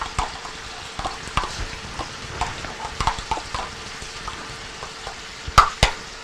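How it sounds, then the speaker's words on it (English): Chopped sweet onion sautés in a small fry pan, a soft sizzle beneath irregular clinks and scrapes of a utensil against the pan, close and intermittent, with a couple of sharper knocks near the end. "I'm also going to start in another smaller fry pan, a half a cup of chopped sweet onion. I'm going to start sauteing this too."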